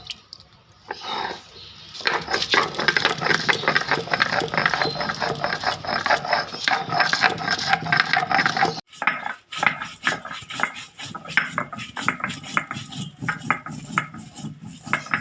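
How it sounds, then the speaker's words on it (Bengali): Spices ground by hand on a sil batta stone slab for a fish curry, giving close, steady rhythmic scraping and grinding strokes that run nearly nonstop, with one short pause partway through. "মশলাগুলো সব শিলের মধ্যে নিয়ে নিয়েছি এবার বাঁধি"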